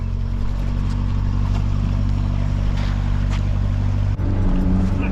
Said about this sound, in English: we're looking forward to going out on our first ever speedboat